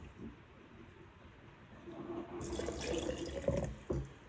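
Water runs and splashes into a quart jar as 2.5 cups are poured in, starting softly then swelling to a steady bright trickle with a few sloshes and drips near the end, with no talk.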